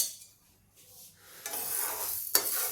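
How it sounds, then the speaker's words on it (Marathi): Assorted lentils, including moong dal, are dry-roasted in a pan for a dal premix. A quiet start gives way to rustling, scraping stirs that grow louder, with a sharp utensil scrape near the end. "या डाळी आपण भाजून घेणार आहोत"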